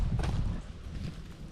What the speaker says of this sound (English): Might be horses, there are horses up here.